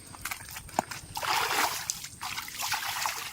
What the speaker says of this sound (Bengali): এবার আমরা হাত পাটা এখান থেকে ধুয়ে নিই